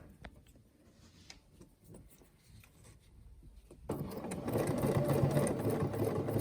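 Sewing machine quilting with a Westalee ruler, quiet handling and shuffling at first, then the motor starts into a steady loud whirring stitch for the last few seconds, close by.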